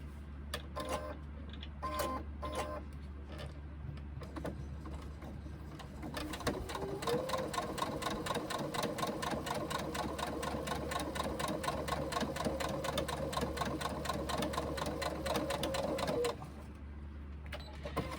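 Sewing machine top stitching a sling bag runs steadily and fairly close for about ten seconds, a dense mechanical whir with rapid needle rhythm, preceded by a few short bursts and quieter handling.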